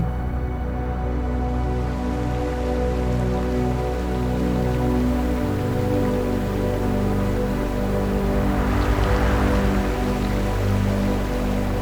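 Rain falls steadily across a valley in Albania, an even, close hiss of drops on surfaces that continues without a break and with no voices.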